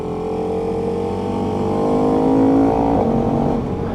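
A KTM RC8 motorcycle fitted with a 1290 engine roars loud and close as the throttle is reapplied. The revs climb steadily, then briefly dip with a gear change before pulling on, with no voices.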